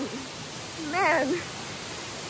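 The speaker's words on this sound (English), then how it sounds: "these waterfalls don't make it easy" Waterfalls roaring in a steady, even hiss of rushing water that fills the background, with a brief voice exclaiming near the middle.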